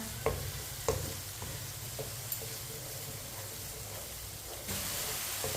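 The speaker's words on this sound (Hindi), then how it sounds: "टमाटर को भी 2 मिनट के लिए पका लेंगे मिक्स करके।" Tomatoes sizzle steadily in a hot pan while a spoon stirs them, knocking against the pan a few times over the constant frying hiss.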